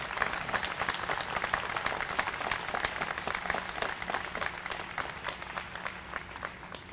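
Sustained applause from graduates and guests at a Georgia Law School 2015 commencement ceremony, a dense, even crackle of many hands clapping in a large hall, slightly distant and fading near the end.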